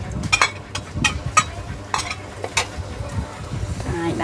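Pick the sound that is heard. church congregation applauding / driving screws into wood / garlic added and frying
garlic added and frying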